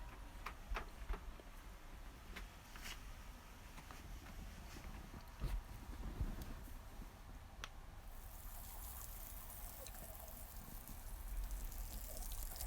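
Steady hiss of water rinsing shampoo off horse tack in a stable yard, with scattered drips and splashes, getting brighter and stronger toward the end.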